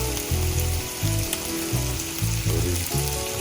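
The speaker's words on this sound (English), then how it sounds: "The pan is sizzling. We want to throw our fish in." Garlic ahi fish fries skin side down in a hot pan, giving a steady sizzling hiss with a faint rhythmic clicking underneath throughout.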